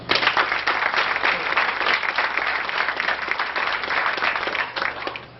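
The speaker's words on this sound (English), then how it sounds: "But I'd like to give him a round of applause." An audience at a school awards ceremony gives a round of applause, many hands clapping in a steady, dense patter that stays loud and even before easing slightly at the very end.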